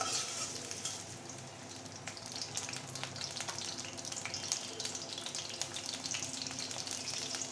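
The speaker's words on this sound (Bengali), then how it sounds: "কুচি করা পেঁয়াজ। এবার একটু ভেজে নেব।" Chopped onion fries in a pan with green chili and garlic, a dense, crackling sizzle that stays loud and even from start to finish, dotted with tiny pops and spatters.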